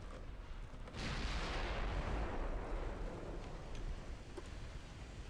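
Warship secondary guns firing in the naval battle game Ultimate Admiral: Dreadnoughts, a heavy rumbling barrage that swells into a dense, roaring wash of distant gunfire and then slowly fades, with no voices.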